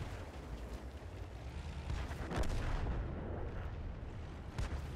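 Howitzer artillery fire in World of Tanks booms as a heavy low rumble, with a sharp blast near the middle and another shot near the end over continuous battle noise.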